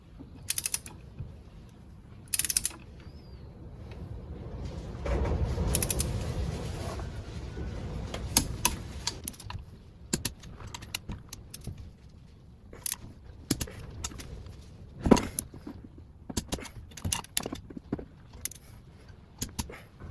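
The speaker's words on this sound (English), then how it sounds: "And then torque them up to 44 Newton meters." Engine head bolts on a four-stroke top end being torqued to 44 newton metres in two stages in a crisscross pattern, with repeated ratchet clicks, tool creaks and metallic clinks in separate bursts, close and quiet, without speech.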